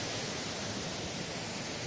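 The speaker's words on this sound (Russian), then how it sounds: "Позади меня водопад Поликаря." The Polikarya waterfall roars in a dense, even wash of falling water that holds steady for the whole short stretch. No voices are heard over it.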